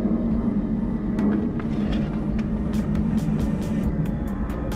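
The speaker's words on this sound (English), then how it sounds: "it's a plane going over." An airplane passing overhead on a hot summer weekend outdoors, a steady broad engine roar that stays constant and fairly loud throughout, with faint clicks over it and no speech.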